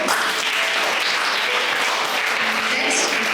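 Schoolchildren applauding at a school event, a dense, steady patter of many small hands clapping together, loud and continuous throughout.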